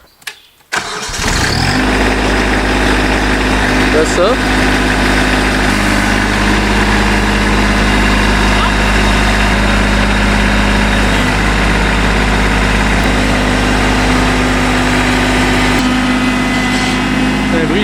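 A lawn tractor is started with a key: a short cranking burst and a catch, then the engine settles into a loud, steady idle that runs on close by, with a few brief words spoken early on.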